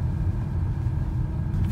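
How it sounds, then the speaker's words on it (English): A car on a road in the White Mountain National Forest, New Hampshire, on a rainy winter day gives a steady, low engine rumble at moderate loudness, with no other sounds over it. "Oh, I see a car."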